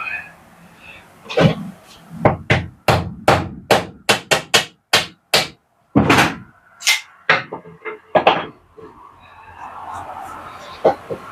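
Sharp, evenly spaced hammer blows strike wood while a wooden dowel is made for church windows, a quick run of about a dozen loud knocks, with brief talk before and after.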